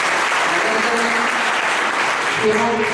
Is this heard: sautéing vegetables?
no